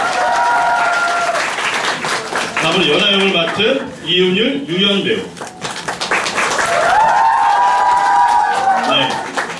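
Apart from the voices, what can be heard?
audience applause at musical showcase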